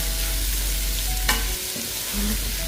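Sliced onions sautéing in oil in a pan for a Thalassery chicken dum biryani, a steady close sizzle with one brief scrape of stirring partway through.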